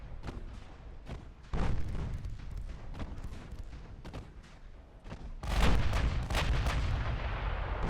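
Warship main guns firing in the naval game Ultimate Admiral Dreadnoughts, a rapid series of heavy booming shots with rumbling echoes, growing louder toward the end.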